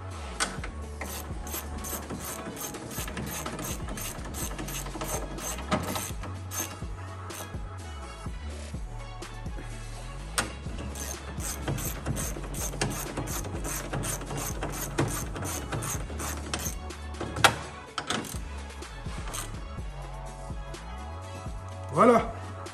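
Ratchet wrench clicking steadily in long runs while a clutch and gearbox are refitted in a Volkswagen Golf Cabriolet, mechanical clatter close by with occasional pauses and voices talking over it.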